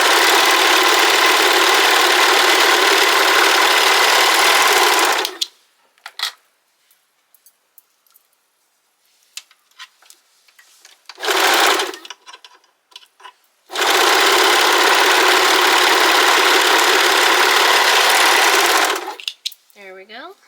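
A sewing machine runs in two long bursts stitching the side seams of a sweater's bottom band, loud steady whirring close by, separated by a quiet pause with light handling clicks.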